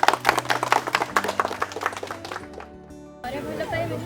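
Several people clap in quick bursts on a film set during behind-the-scenes shooting of the Odia movie Mahakal, with sharp hand claps close by under ongoing talk and background sound, then fading.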